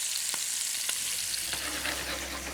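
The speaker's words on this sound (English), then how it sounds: "I want to put them in that duck fat just to get some colour on them there" Pears frying in very hot duck fat, a steady close sizzle with a few sharp pops and spits early on.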